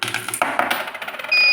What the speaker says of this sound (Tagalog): I-test natin yung timer using 5 peso coin.